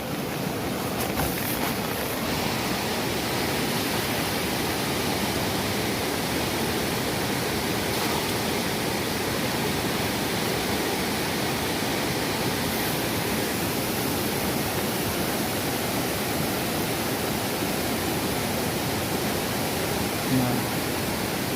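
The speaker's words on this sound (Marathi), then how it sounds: "पाणी बघा कसलं गडू गडू झालं आणि केवढं बघा पाणी एक प्रकारची नदीच म्हणता येईल एवढं पाणी येतं या पर्याला" A swollen village stream rushing after rain, a broad steady roar of flowing water close by and unbroken for the whole stretch, with no voices over it.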